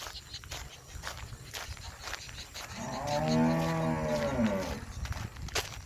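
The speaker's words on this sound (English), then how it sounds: "No wonder the cow is crying." A cow standing in water lets out a long, loud moo in the middle, rising and falling, over rustling outdoor noise and scattered footsteps.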